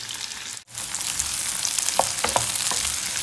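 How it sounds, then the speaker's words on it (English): Garlic and shallot frying in a wok for Thai green curry, a bright close sizzle with a few sharp spatula scrapes and a momentary break near the start. "When we fry garlic and shallot together before we do the curry paste, you get more aroma from garlic and shallot."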